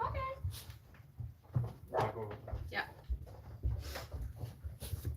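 A dog whimpers and gives short barks and yips in a room, while people talk over it and a low background rumble runs throughout.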